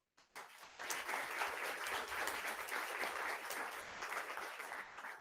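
Applause from the audience at a school board meeting after a public comment, starting abruptly and holding as a steady, moderately distant wash of many hands clapping for several seconds.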